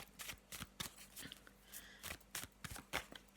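Tarot cards are shuffled in quick, crisp riffling bursts, close and quiet, with short pauses between flurries.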